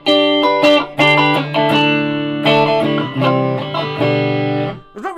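An electric guitar played through a Marshall Plexi combo amp and a Moore Shimverb pedal rings out in a short phrase of sustained, harmonically rich notes that swell and decay, loud and close.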